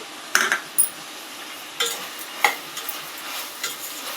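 A spoon stirring eggplant curry with turmeric and rock salt in a pan, giving a handful of distinct metallic scrapes and clinks over a faint hiss, close and with nobody talking.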